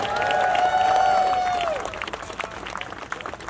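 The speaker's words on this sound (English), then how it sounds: "Can we give him another round of applause" A crowd at a health and housing rally breaks into applause, with whoops and cheers over the clapping at first, then the cheering fades and scattered clapping continues.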